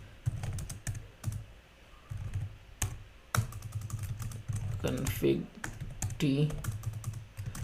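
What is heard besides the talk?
typing on computer keyboard configuring ASA firewall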